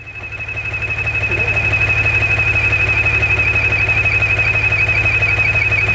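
A 2014 Maserati Ghibli SQ4 engine with a faulty oil vapor recirculation system idles with a steady rhythmic throb as a high-pitched squeal rises and holds constant over it, loud and close.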